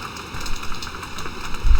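Rain falls in Farming Simulator 2013 as a brief, steady hiss of patter at moderate loudness, with no one talking over it.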